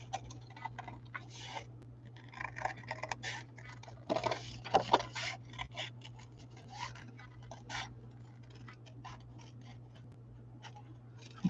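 Scissors snip through decorative scrap paper for a handmade card, a series of quiet, close, irregular cutting and rustling sounds with a faint steady hum beneath.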